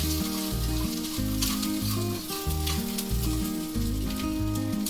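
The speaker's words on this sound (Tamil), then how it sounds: "பச்சை மிளகா, கருவேப்பிலை, பூண்டு, தேங்காய் எல்லாத்தையும் ஆட் பண்ணிவிட்டு லைட்டாக ஒரு தடவை வதக்கிட்டு" Green chilli, curry leaves, garlic and grated coconut sizzle steadily in a hot pan for coconut chutney, with an occasional stir, all under steady background music.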